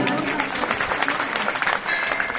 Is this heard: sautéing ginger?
no